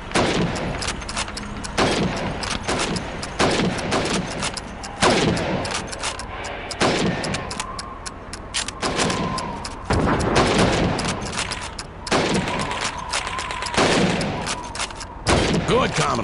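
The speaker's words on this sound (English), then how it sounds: "You have 15 seconds to shoot the helmets." Rifle gunshots in the Call of Duty 2 video game as helmets on a training range are shot, a run of sharp loud cracks at irregular intervals over about sixteen seconds, with faint voices between shots.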